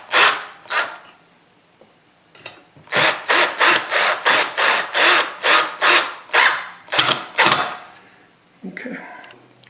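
Two short rasps, then a quick run of about a dozen rhythmic grinding, creaking strokes as a screwdriver drives a screw tight into wood while installing a ceiling fan.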